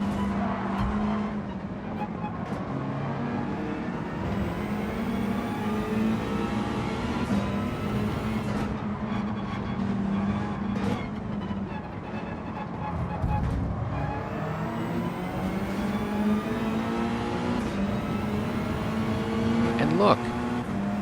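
Race car engines droning steadily at Mount Panorama in Gran Turismo, with rising and falling revs as a Mazda chases other cars in the slipstream, a brief tire scrub near the end, under continuous talk.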